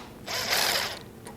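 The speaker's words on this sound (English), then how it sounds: "if you have an impact driver with a 6mm Allen wrench, now's the time to use it." Impact driver with a 6mm Allen bit loosening a fastener on an 8-inch jointer, a single close whirring burst lasting under a second.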